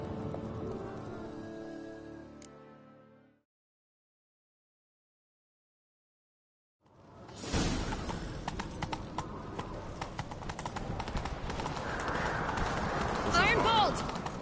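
Rapid galloping hoofbeats pound steadily and loudly after a brief silence, with voices and other game sounds layered over the running horses.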